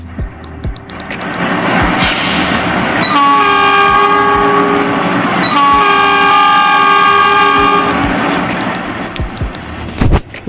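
CC 206 diesel locomotive in a train simulator game, a steady engine rumble and rolling noise with two long sustained horn blasts in the middle, loud and close throughout.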